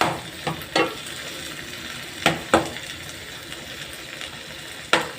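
Fish sarsyado sauce with tomatoes simmering and sizzling in a pan, a steady bubbling hiss broken by a few sharp clinks and stirring knocks from a utensil.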